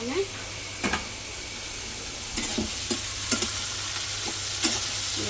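Green peas frying and being stirred in a pan, a steady broadband sizzle with repeated scraping stir strokes, close and moderately loud throughout.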